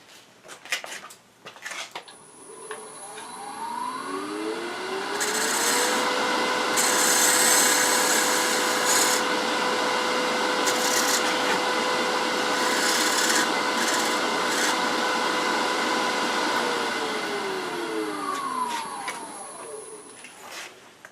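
A spindle gouge cuts into a spinning wooden bowl on a lathe, giving a steady scraping rasp of wood that swells after a few seconds and holds close and loud before easing off, with no talk.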